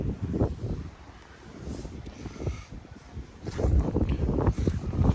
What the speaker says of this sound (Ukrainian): Вітер є, такий доволі сильний бджіл здуває.